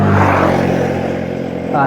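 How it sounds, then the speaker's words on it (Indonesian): Motorcycles pass along a roadside, their engines droning loud and steady, then fading slightly before rising again at the end, beneath a voice. "agak banyak motor soalnya di sini di pinggir jalan"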